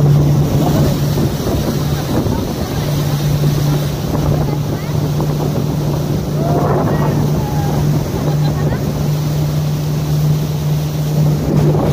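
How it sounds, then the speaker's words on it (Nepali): River water rushes past a 25-seat passenger boat on the Karnali river at Chisapani, a steady loud wash mixed with wind buffeting and a low engine hum throughout. "हेर्नुहोस् त पानी यसरी बगिरहेको छ"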